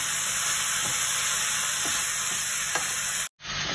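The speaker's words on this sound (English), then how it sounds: "so the beef is in, we'll stir it through for about 30 seconds" Beef for chilli beef stir-fries in a hot pan, a loud continuous sizzle with faint scraping stirs, close up, cutting off abruptly near the end.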